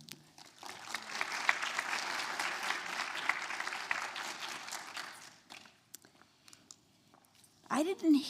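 An audience claps in welcome for a speaker at an education and planetary health event, with dense, steady applause that swells then thins out over several seconds before talking resumes.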